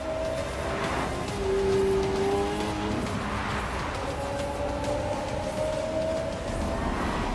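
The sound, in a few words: all-electric 1,241 horsepower supercar driving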